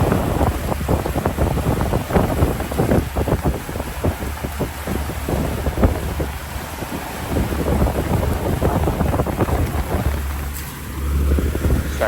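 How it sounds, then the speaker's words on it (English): Strong wind buffets the microphone in a steady roaring rush aboard a deep-sea fishing trip off Kona, Hawaii, swelling and easing in gusts for several seconds, with no voices. "it's a nice little gust of wind coming right now, so might be a little loud"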